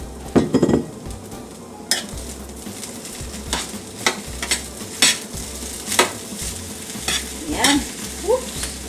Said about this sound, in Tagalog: Ngayon, ang susunod nating ilagay ay ang ating green peas.